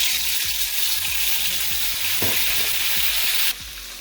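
Green chili paste fries in very hot oil for chicken karahi, a loud dense steady sizzle with rhythmic scraping stirs, dropping suddenly quieter near the end.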